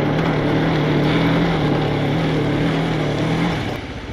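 Motorcycle engine running on steep off-road terrain, a steady, close, loud droning hum that holds evenly before easing slightly at the end, with no voices.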